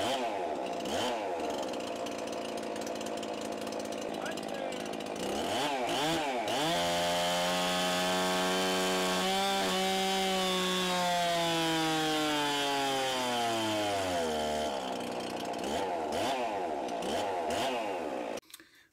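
A Stihl MS361 clone chainsaw runs after ring break-in, roaring loud and close for nearly twenty seconds as it revs up, holds a high whine, then drops back before cutting off abruptly at the end.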